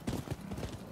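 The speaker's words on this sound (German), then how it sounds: "Junge, Pferde, aber echt schnell." A horse gallops fast in the video game Rise of the Ronin, its hooves pounding in quick rhythmic thuds, loud and close, for about a second.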